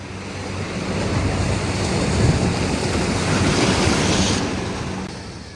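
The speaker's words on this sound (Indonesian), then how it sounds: "Suara deburan ombak seperti ini bikin fresh ya, bikin pikiran tenang ya" Continuous roar of ocean surf breaking on the beach at Anyer, Indonesia, loud and close, swelling and easing with wind noise over the microphone.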